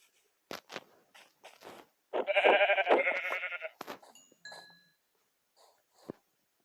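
A sheep in a survival video game gives one clear drawn-out bleat amid sparse game footsteps and short clicks, fairly faint overall with quiet gaps around it.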